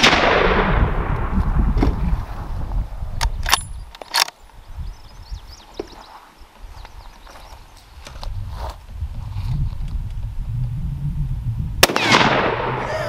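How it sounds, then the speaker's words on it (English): Sharp cracks of .300 Win Mag rifle shots fired at a tricycle outdoors, several spaced single reports with echoes over background rustle and handling noise. "I'm going to load up 5 more and take some more shots at it"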